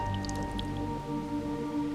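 Water drips steadily from a roof leak inside a house, falling into something set beneath it, heard indoors over a constant low hum.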